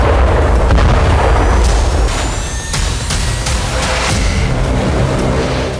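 Loud, dense rumble of explosions from a strike on a motorized rifle regiment's command post, with repeated booming blasts and crackling bursts running continuously, no speech.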